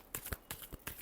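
Tarot cards are shuffled in three quick riffling bursts, close and faint, with short pauses between each pass.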